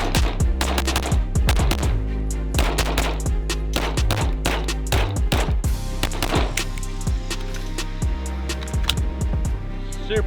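Rapid strings of loud, sharp pistol shots from a Sig Sauer 226 TAC-OPS fired fast at a range, close and echoing, with brief pauses between bursts and no talk.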